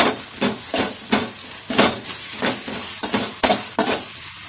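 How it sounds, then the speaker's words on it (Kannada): Tomato sauce and soy sauce are stirred together in a hot pan for homemade noodles, a loud close sizzle broken by rhythmic scraping strokes of the spoon, with no voices. "ಟೊಮೊಟೊ ಸಾಸು ಎಲ್ಲ ಜಸ್ಟ್ ಒಂದು ಮಿಕ್ಸ್ ಕೊಡಿ"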